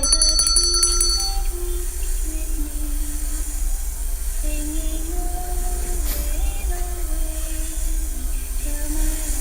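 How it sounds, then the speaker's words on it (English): A hand bell rung during a stage hypnosis demonstration gives a bright, ringing burst near the start, then fades under steady background music. "when I ring the bell again"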